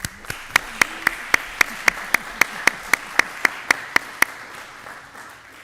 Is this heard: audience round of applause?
yes